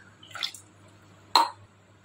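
Parboiled rice dropped into a tumbler of water, two short, soft splashes about a second apart in a quiet room.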